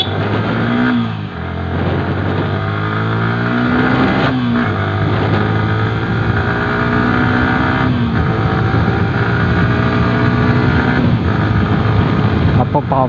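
Yamaha R15 V3 BS6 motorcycle ridden on a highway, its engine revving up through gears with rising whines and shift breaks, loud and close over steady wind and road roar.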